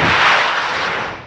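A single loud, close rifle shot from an AK-47 firing 7.62x39 rounds at a full oxygen tank in the desert, a sharp broadband crack with a boom that rolls off over about a second.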